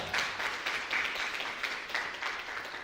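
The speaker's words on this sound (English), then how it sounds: "A round of applause" Fairly quiet applause at a book launch event, a room of people clapping with a loose uneven rhythm of slightly stronger bursts over about three seconds.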